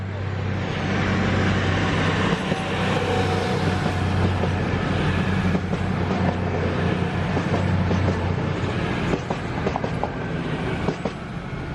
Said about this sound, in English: From the 1456 East Midlands Railway service to Corby. And the train is just coming in.